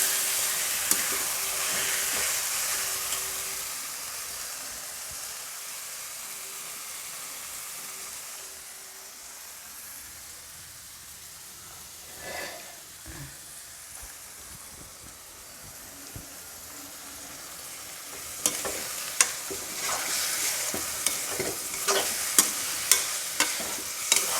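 Prawn gravy masala sizzling and frying in a pan while being stirred, a broad hiss that fades midway and then returns with sharp scraping and clattering strokes of the spoon near the end, close and unaccompanied by speech.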